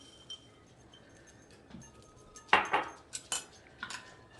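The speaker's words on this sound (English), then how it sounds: "And mix that together a while, so it's evenly mixed" A spoon stirs egg, creamed corn and frozen corn together in a bowl for spoon bread, with quiet scraping followed by several sharp clinks of metal against the dish.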